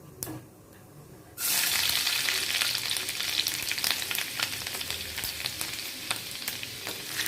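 Garlic hits hot oil with cumin and mustard seeds, bursting into a loud, sudden sizzle after a quiet moment, then a sustained crackling fry with small pops and stirring clicks, close and alone without talk.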